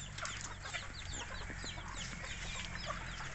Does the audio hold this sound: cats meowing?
no